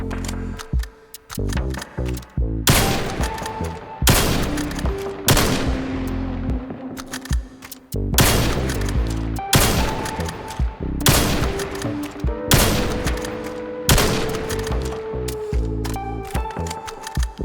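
Repeated loud gunshots from a weapon in a VR shooting video game, fired in bursts of sharp bangs with brief pauses between, each followed by short ringing decay, close and dominant.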